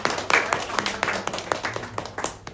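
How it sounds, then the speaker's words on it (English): Scattered clapping from a small audience at a group's opening event in London, sparse and uneven rather than a full ovation, with some talk mixed in. "shall we give applause a little bit about this company?"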